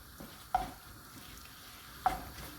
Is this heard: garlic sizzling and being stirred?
yes